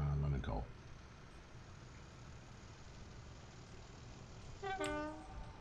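A half-mile coal train departs in the railway simulation game Transport Fever, with a short horn toot at the start, a low rolling rumble, and a second brighter horn blast near the end.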